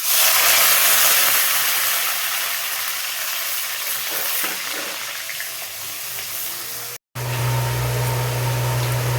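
Cinnamon, cloves, cardamom, bay leaves and onion sizzle steadily in hot oil while a local chicken curry is cooked, a loud, continuous close-up frying hiss with a brief dropout near the end.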